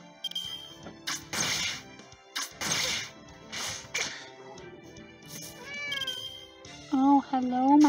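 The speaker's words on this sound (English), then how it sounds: "My whiny baby kitty." Ella, a pet cat, lets out drawn-out whining meows near the end, following several sharp broadband bursts and a person talking.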